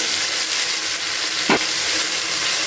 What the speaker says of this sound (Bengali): এবার আমি পেস্ট করে রাখা মশলাটাকে এর মধ্যে অ্যাড করে দিলাম